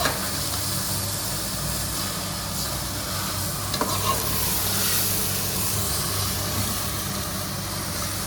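Boiled dal being mixed into rice in a pot gives a steady, dense bubbling hiss with soft stirring, close by and unbroken, without speech.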